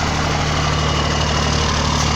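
A Volvo Constellation 24-250 fuel-hauling twin-steer truck runs with a noisy rear differential, giving a steady, loud low engine drone with a constant mechanical hum and no break, no voices.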